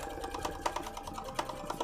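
An embroidery sewing machine stitches fabric held in a small hoop, giving a quiet, rapid, steady mechanical patter with regular clicks.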